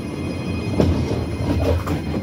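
A BKM 802E tram rumbles along its rails, heard from inside as a steady low rolling drone with faint wheel clatter and a light squeal, no voices.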